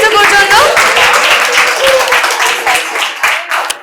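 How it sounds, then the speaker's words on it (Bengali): Applause at a quiz competition held at a medical college, loud and dense at first, then thinning and trailing off over a few seconds, with some voices mixed into the crowd noise. "জোরে একটা হাততালি হয়েছে পর্যন্ত।"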